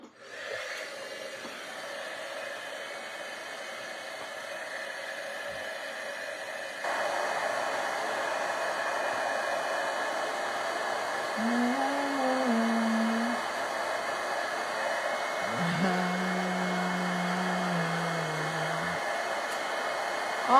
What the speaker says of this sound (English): now we're going to heat emboss that